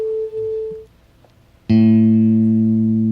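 A tuning fork sounding A, struck and held against a guitar, rings as a strong sustained tone rich in overtones, loud and close after a short hush, following a fainter steady tone.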